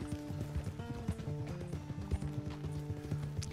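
Horse hooves clip-clop steadily in the Red Dead Redemption 2 video game, a rhythmic, fairly close patter of several hoofbeats over a low rumble, with a faint mechanical rattle and no talk.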